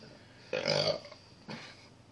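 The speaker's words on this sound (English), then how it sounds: "Burp at will." A person burps twice after drinking Warsteiner Dunkel beer. A loud, close burp of about half a second is followed by a shorter, softer one a moment later, with no talking.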